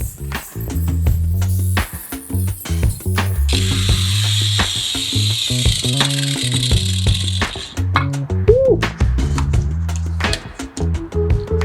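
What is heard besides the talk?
grinder cutting tile to fix popped-up floor tile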